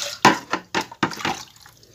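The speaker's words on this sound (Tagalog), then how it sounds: "Tapos lagyan natin ng tubig." Water splashes into a container in a kitchen sink while making ice candy, heard as several separate splashy bursts in an uneven rhythm that thin out into quiet trickling.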